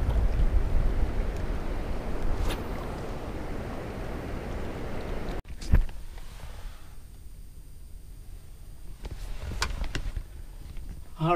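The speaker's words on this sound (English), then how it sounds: "it is crazy windy out there, probably 25-30 miles per hour" Strong gusty wind, around 25-30 mph, buffets the microphone outdoors while fishing, a loud rumbling roar for the first half that drops to a lower rush with occasional sharp gusts and knocks.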